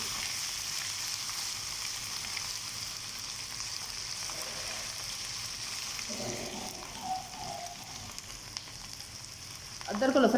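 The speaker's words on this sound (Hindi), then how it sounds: "अदरक और लहसुन पेस्ट को भी हमने इसके अंदर अच्छी तरह से फ्राई कर लिए" Ginger garlic paste frying in a pan with cumin and cinnamon for masoor pulao, a steady close sizzle running throughout, with a louder burst of crackling near the end.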